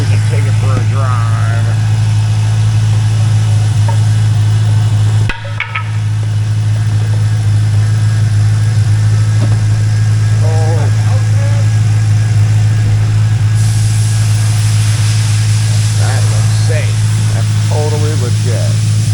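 A 2004 Pontiac GTO with a 5.7L LS1 V8 and T56 manual gearbox drives along, engine humming low and steady with mild changes in pitch, heard from inside the car under frequent talk.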